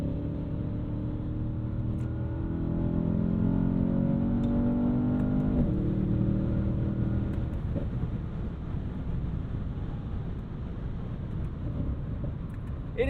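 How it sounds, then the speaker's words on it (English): A 2020 Mercedes-Benz S63 AMG, a 605 hp four-door sedan, accelerates hard. The engine note rises steadily from inside the cabin, shifts gear partway through, then settles into a sustained drone under wind and road noise. "It is just so quick."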